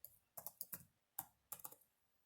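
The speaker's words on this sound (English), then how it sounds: "Type in your password" Keys tapped on a computer keyboard entering a password, a few quick clicks, a short pause, then three more keystrokes, close and fairly quiet with no voices.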